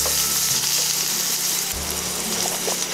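Baby bella mushrooms fry in a pan of butter and olive oil, giving a steady, close sizzle with soft crackling and the occasional stir, with no talking.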